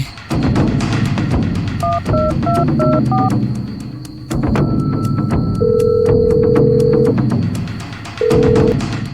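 A telephone rings with a short electronic melody of stepped beeps and then long steady tones, sounding over dense background music.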